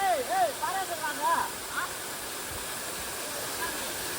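Dudhsagar waterfall at night roars with a steady, loud rush of falling water. A few brief high chirping tones sound over it at the start.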